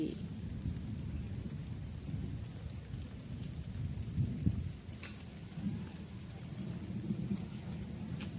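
Heavy monsoon rain pours steadily outdoors while rolling thunder rumbles low and continuous beneath it, with no one talking.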